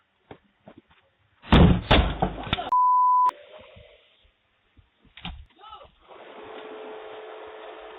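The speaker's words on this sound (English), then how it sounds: "a group of street kids double-kick someone's front door till it opens" Street kids kick a house's front door repeatedly until it bursts open, giving a burst of loud, close slams and thuds, followed by a short electronic beep and scattered knocks from a doorbell camera, with voices in between.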